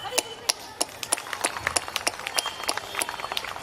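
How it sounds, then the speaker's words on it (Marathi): Parents at a preschool annual function in Padghe clapping, a short burst of scattered, crisp individual hand claps at close-to-mid distance, uneven in rhythm. "सर्व पालकांनी मनापासून टाळ्या वाजवल्या"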